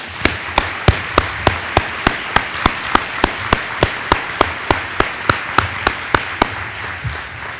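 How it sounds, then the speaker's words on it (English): Applause for a women's discussion panel, heard as sharp, evenly spaced claps in a steady rhythm, about three per second, fairly loud and with no talk over them. "How about another round of applause for those guys?"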